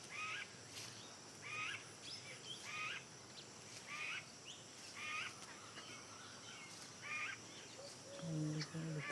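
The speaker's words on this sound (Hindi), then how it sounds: "पक्षी कैसे बैठे हैं पेड़ पर मस्ती करते हुए" Small birds perched in a tree in a rural Bilaspur district village give repeated short chirps at an even pace, faint and somewhat distant over low background hum.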